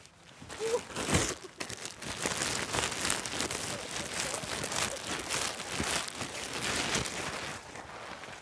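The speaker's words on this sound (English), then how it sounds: "Ooh, a plastic bag." A plastic bag crinkles and rustles close by in irregular bursts of crackling over several seconds.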